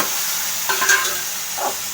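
Chopped tomatoes sizzling in a pan with softened onions while a spoon stirs them, a steady close frying hiss broken by a couple of brief scraping strokes.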